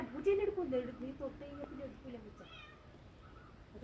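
A newborn kitten gives a few thin, high meows early on, while people talk nearby.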